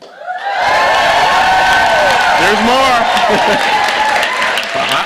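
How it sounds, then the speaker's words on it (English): A large audience at a White House reception cheers, whoops and applauds loudly for the First Lady, a dense sustained roar of clapping and shouting that rises quickly and carries on, with a voice speaking briefly at the start. "We're just going to cheer"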